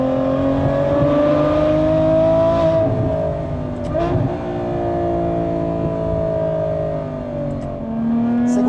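Ferrari F12 Berlinetta V12 pulling hard in second gear, a loud in-cabin engine note rising steadily in pitch with a brief dip at a shift, then climbing again.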